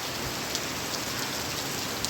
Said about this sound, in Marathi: पावसाचा जोर वाढला आहे खूप